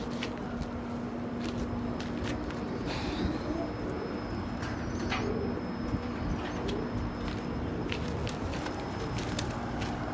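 Pigeons coo softly while feeding in a loft, low murmuring calls under a steady background hum, with scattered chirps and light shuffling footsteps throughout.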